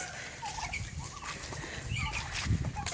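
Broad-breasted white turkeys gobble in a flock, their warbling calls overlapping in a continuous, moderately near chorus with a heavier burst toward the end.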